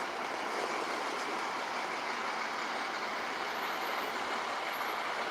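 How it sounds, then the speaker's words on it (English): Trucks idling and rumbling at the main entrance of a hotel, a steady dense engine drone with a faint hiss of air brakes, continuous and fairly loud with no pauses. "You see the trucks that are bringing things"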